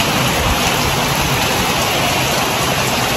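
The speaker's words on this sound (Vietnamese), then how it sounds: "Trời mưa quá anh Hòa ơi" Heavy rain pours down outside a rural house, a dense, loud, unbroken hiss with no gaps and no voices.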